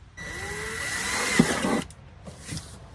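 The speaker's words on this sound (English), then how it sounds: "So what I'm gonna do is drill a hole" A power drill bores a hole through a camper's fuel tank while fitting a diesel heater: a close, steady whine for under two seconds, stopping, then a short second burst.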